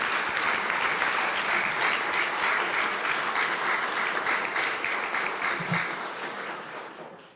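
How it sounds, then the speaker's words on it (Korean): A large congregation gives a long, dense round of grateful applause honouring a revered mother figure, steady and full before tapering off at the end. "우리 대모님께 큰 감사의 박수를 올렸으면 좋겠습니다"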